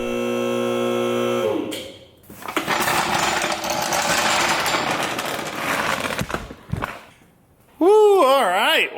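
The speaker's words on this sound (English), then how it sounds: "when you got a Sawzall in your hands and sheet metal in front of you" A Sawzall reciprocating saw cuts through sheet metal in a harsh, buzzing burst of about four seconds, preceded by a steady tonal whine and followed by a short pause and a wavering voice.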